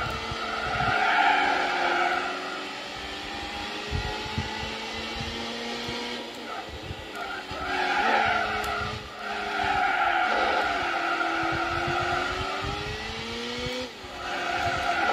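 Race car engine from Gran Turismo 4 on the PS2, droning steadily with rising and falling pitch as gears shift, with bursts of tire squeal and skidding throughout.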